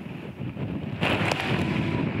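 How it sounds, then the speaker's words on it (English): Ocean waves crash and splash over a seawall at high tide, a steady broadband wash that surges louder partway through, with gusting wind buffeting the microphone outdoors. "definitely getting some good waves and a lot of splash over today"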